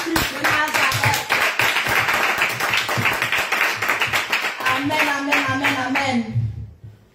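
Congregation clapping at a church service, dense steady rhythmic applause sustained for several seconds under a singing or speaking voice, then fading out at the end.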